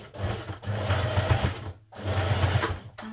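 A sewing machine top-stitches a skirt pocket in two quick bursts of rapid mechanical whirring, with a brief pause between runs.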